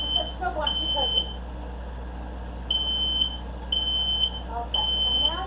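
Smoke alarm going off in a kitchen while tomatillos roast, shrill high beeps sounding in repeated bursts with pauses between, over a low steady hum, with people talking in between.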